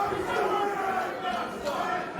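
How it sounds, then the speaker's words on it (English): Wrestling event crowd cheering at an SPW Warpath show, a dense continuous roar of many voices filling the whole stretch at steady loudness, with commentators talking over it. "By the sound of this crowd, it sure is."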